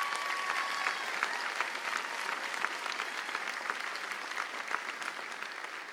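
A commencement crowd applauding with steady clapping that holds evenly throughout, heard from a moderate distance.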